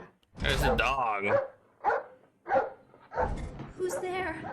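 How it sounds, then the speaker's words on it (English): In the Still Life adventure game, a dog lets out a series of loud, close barks and yelps in several separated bursts, heard on their own with no talk over them. "There's a dog."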